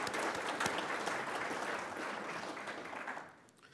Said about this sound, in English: Let's give Beth some applause.